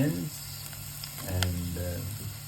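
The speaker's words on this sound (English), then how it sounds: "Then what we are doing is adding the curry leaves and onions," Curry leaves and onions frying in hot oil for a vegetable sambar, giving a close, steady sizzle with a low hum underneath, and no voices.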